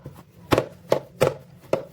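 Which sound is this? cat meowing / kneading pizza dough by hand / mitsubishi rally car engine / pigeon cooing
kneading pizza dough by hand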